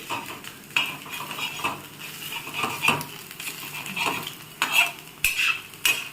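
Egg bhurji stirred and pressed in a pan, a spatula scraping and tapping against the metal at irregular intervals over a quiet sizzle, close by with no talk.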